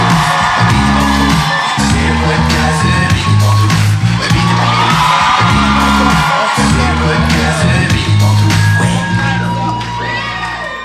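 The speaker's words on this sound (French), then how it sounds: "donnez un tonnerre d'applaudissements pour Mona de Grenoble et Pierre-Luc Funk!" A large live audience at a French-language podcast taping erupts in sustained cheering, whooping and shouting with applause, loud and continuous for about eleven seconds, no voices standing out.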